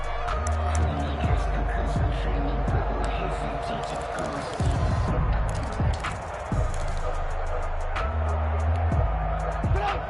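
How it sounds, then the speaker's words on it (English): A stadium crowd at a football game roars and applauds the defense in a steady, dense wash of cheering and clapping, with an announcer talking over it throughout. "How about some applause for the defense there?"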